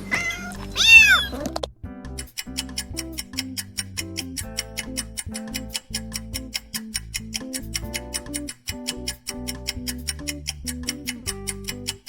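A cat meows several times in a quick, rising and falling burst, then a steady ticking rhythm with bright clicks and low tones carries on alone for the rest.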